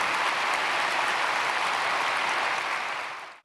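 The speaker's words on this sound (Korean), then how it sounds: "우리 박수하겠습니다." A church congregation applauds during a Sunday praise service, a dense, steady wash of clapping that holds level for about three seconds and then cuts off abruptly.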